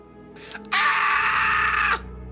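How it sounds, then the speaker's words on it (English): A character's long, loud, strained scream as a podcast sound effect, a short cry rising into a sustained shriek that cuts off abruptly as he passes out, with no talking. "Meryl screams like a 5-year-old girl and then passes out"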